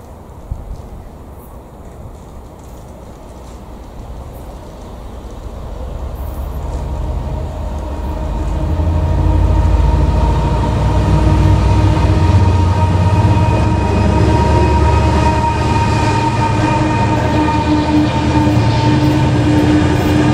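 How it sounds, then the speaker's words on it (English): A train runs non-stop through platform 4 at Swindon station, a low rumble that builds from a quiet start into a loud, sustained roar of passing wagons with faint clickety-clack. "The next train is not scheduled to stop."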